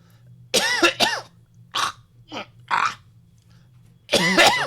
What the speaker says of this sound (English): Sounds like a body's coughing in here.